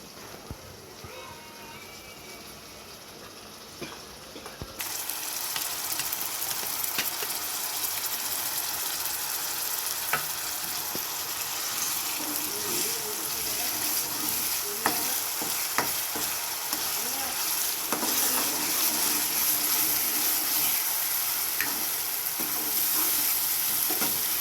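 Onion paste goes into a pan for home-style chicken curry; a quieter kitchen murmur jumps abruptly into a loud, continuous sizzle with frequent stirring clatter, and a voice speaks faintly now and then.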